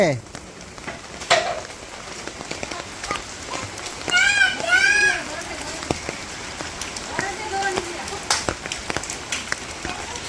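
Sudden rain from a cloudless sky patters steadily on surfaces, a dense hiss dotted with sharper drop ticks, while a voice speaks briefly partway through.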